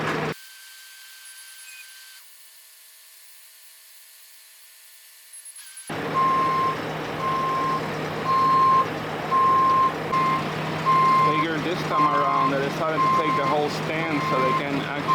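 A big tractor unloading trusses on a house build site sounds steady, evenly spaced reversing beeps over a running engine and job-site clatter, following a quiet stretch at the start.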